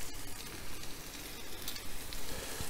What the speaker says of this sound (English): See how that's shimmering? And they're sizzling already.